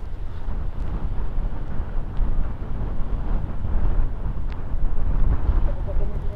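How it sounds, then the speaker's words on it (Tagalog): Strong wind on a mountain road between Pangasinan and Nueva Vizcaya buffets the microphone in a constant low roar, gusting louder and softer, with faint voices in the background. "malakas yung hangin"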